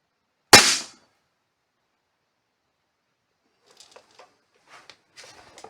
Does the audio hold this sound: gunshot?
yes